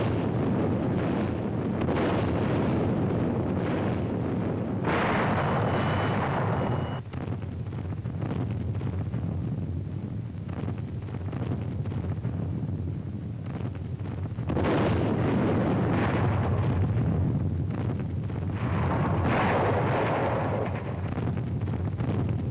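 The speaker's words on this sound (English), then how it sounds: "The naval bombardment continues." Naval bombardment during the WW2 D-Day invasion of Normandy: steady roaring wind-like rumble with heavy low booms and surging blasts, loud and continuous throughout.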